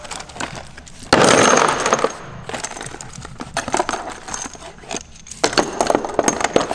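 Suspension nuts and bolts for a Noble GTO rebuild clink and rattle as they are handled, with loose metallic jingles and clatters in irregular bursts, close up.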